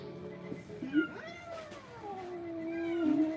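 A cat freshly shaved in a lion cut meows in one long, drawn-out, wavering call that rises and then slides downward, fairly close and clear, with no talking over it.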